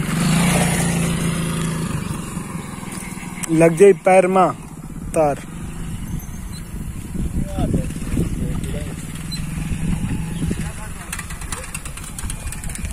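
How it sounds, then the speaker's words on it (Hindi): A vehicle engine drones and idles close by at a farm field, a steady low rumble that continues under several people talking and shouting. "पक्का डी गाड़ी आ रही"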